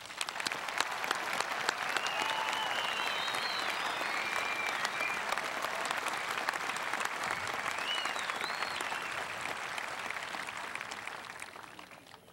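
A graduation audience gives the class of 2006 a hearty round of applause at South St. Paul, with dense, sustained clapping from a large crowd that lasts about twelve seconds and eases off at the end.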